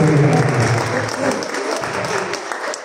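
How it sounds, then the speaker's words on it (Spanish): Audience applause welcoming a guest at a freedom-of-expression day event, a dense burst of clapping close by that eases slightly but continues, with crowd voices mixed in. "Un fuerte aplauso."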